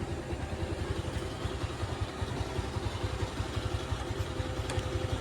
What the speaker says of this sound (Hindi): ये स्टार्ट हो गई और इंजन का साउंड देखिए कितना साउंड मस्त आया है।